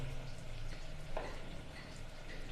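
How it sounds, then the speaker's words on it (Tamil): Onion and curry leaves sauté in hot oil, with fenugreek seeds already fried, for a Chennai-style fish curry: a soft, steady sizzle that keeps up through the clip at moderate loudness, with a brief scrape near the middle. "வெங்காயம் கருவேப்பிலையை போட்டு வதக்கிட்டு இருக்கோம்."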